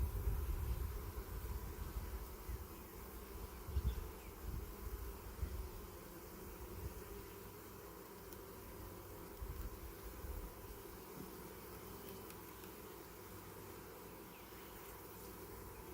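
Honey bees buzz around an open hive during an inspection of honey and brood frames, a continuous soft droning hum that stays fairly quiet and steady throughout, with no voices.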